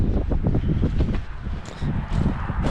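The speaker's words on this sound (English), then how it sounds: "It's windy." Strong wind buffets the microphone in heavy, rumbling gusts that rise and fall throughout.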